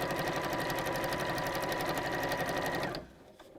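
A sewing machine runs steadily for about three seconds, stitching straight lines on a pleated bag, with a rapid, even needle rhythm, and then cuts off into near silence.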